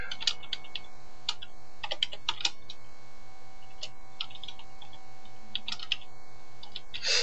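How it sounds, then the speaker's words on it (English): Irregular clicking of typing on a computer keyboard, scattered bursts of keystrokes with short pauses between them, close and fairly quiet over faint background hum. "I'm not sure why I'm having so much issue typing right now."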